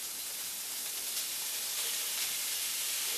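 Mince frying in a pan with a little oil, giving off a steady, even hiss and sizzle that stays level throughout, close and uninterrupted, with no talking.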